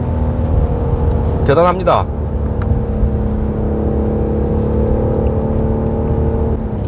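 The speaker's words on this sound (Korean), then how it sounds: "이 으르렁거리는 엔진 소리 한번 들어보십시오." BMW 760Li engine roaring under acceleration, a strong steady growl with rising pitch, carried close and loud while someone speaks briefly over it.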